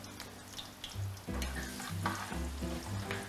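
Minced garlic hits hot oil in a pan for pancit sotanghon, giving a continuous close sizzle and crackle, with stirring and clinking utensil sounds breaking in near the middle.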